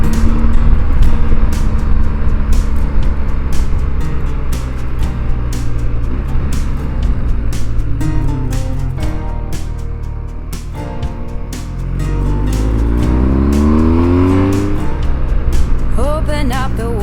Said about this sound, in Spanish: Los derrapes que tienen aquí con los coches